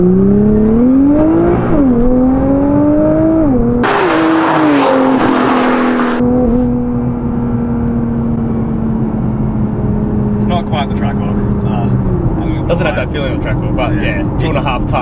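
Expensive Nissan car accelerates hard to 100, engine note climbing through rising pitch sweeps with gear shifts, loud and close from inside the cabin, then settling into a steady drone as speed holds; a voice speaks briefly.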